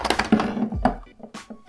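A drum is pulled out of an X-Shot toy blaster, giving a few close plastic clicks and thunks with a short sliding scrape in the middle.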